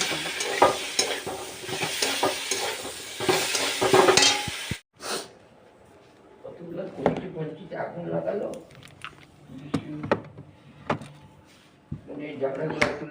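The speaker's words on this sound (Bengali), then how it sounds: "পটলটা দিয়ে ভালো করে নাড়িয়ে চাড়িয়ে একটু কষিয়ে" Pointed gourd stirred and fried in spice paste in a pan, with a loud sizzle and scraping stirs for several seconds, then quieter intermittent clinks and scrapes while a person talks over it.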